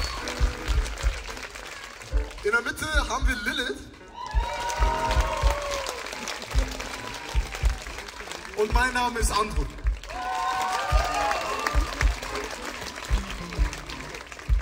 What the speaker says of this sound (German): Genau, einmal Applaus bitte.